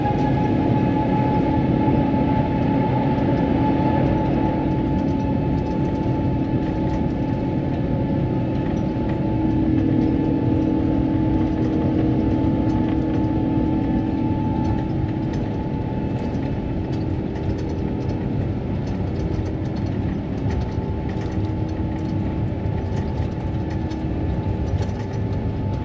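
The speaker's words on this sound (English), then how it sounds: "up to takeoff revs, and we're moving." Takeoff roll of a Virgin Airbus A350-1000 heard from the cabin, a loud steady engine roar with a persistent low rumble and rolling clatter that holds constant throughout.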